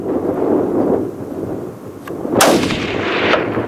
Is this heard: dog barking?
no